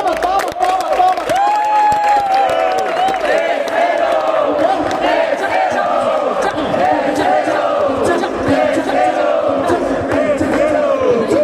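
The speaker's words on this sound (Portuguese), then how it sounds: "Palmas, palmas, palmas, palmas, palmas, palmas." A rap battle crowd at a Brazilian final roars with cheers, shouts and chants, a loud, sustained wall of excited voices with scattered clapping buried beneath it.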